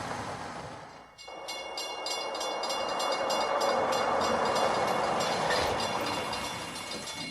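A train rolls past at steady, loud volume with rumbling and metallic clatter, a brief dip early on before the noise swells and holds.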